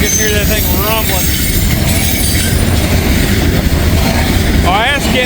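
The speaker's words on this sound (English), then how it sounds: "Man, you can hear that thing rumbling." Ballast train of older, holed gondola cars rolling past close by in Walton, a loud continuous rumble with clattering wheels and repeated squeals of wheels on rail.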